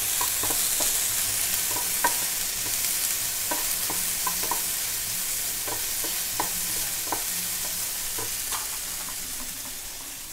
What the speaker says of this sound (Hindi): गाजर भी ऐड कर देंगे। अच्छे से मिक्स कर लेंगे।